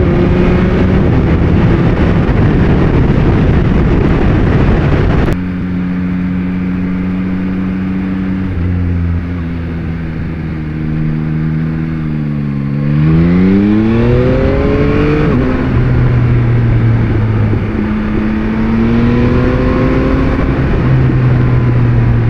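A Yamaha MT-09 2021 motorcycle engine drones loudly while riding, with rushing wind noise and pitch rising and falling as it shifts and accelerates.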